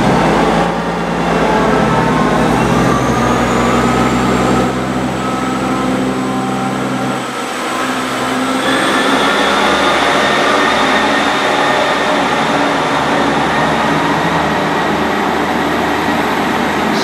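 A Class 158 diesel unit on the Weston-super-Mare to Bristol Parkway service passes through Yatton station, a loud continuous rumble and roar sustained for many seconds with a rising whine, close to the platform, no talking.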